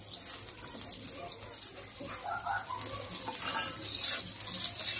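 Whole spices with coriander and rock salt dry-roasting in a pan give off a faint, dry crackle and patter with soft scratchy stirring, quiet and continuous.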